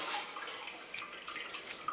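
Tap water runs and splashes steadily during ablution washing before prayer, a close, even gush with faint drips and no speech over it.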